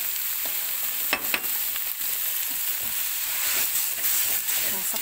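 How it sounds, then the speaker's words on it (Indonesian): Chicken fries with spices in a wok, producing a continuous loud sizzle and hiss with occasional stirring knocks and scrapes. "Masak dulu ayamnya."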